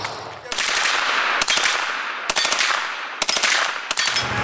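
A woman fires a fully automatic gun outdoors in several loud, close bursts of rapid shots separated by short pauses.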